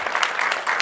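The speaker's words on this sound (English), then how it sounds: "That deserves a round of applause, I think." Audience applause at a cancer genomics panel discussion, a short dense burst of many hands clapping steadily with no voices on top.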